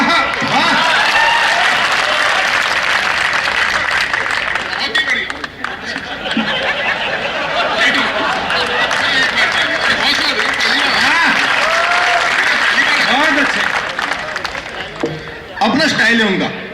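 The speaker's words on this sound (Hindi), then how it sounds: "तो मुझे आपकी सबकी तालियां चाहिए।" Audience applause at a Hindi poetry stage show, a dense, steady wash of clapping from a crowd that runs nearly throughout, mixed with scattered chuckles and chatter, dipping briefly before a final burst.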